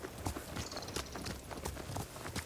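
A horse's hooves galloping in Ghost of Tsushima, a steady quick clip-clop rhythm under a dense, busy game soundscape, with no talking.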